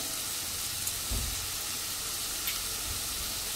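Prawns sauté in a pan over a medium flame for a butter garlic prawn dish, giving a steady, soft sizzle with a few light stirring knocks. It is close and moderately quiet, with no one talking.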